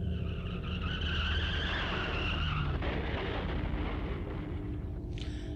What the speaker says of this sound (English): Then there was an oddly familiar sound, another car accident.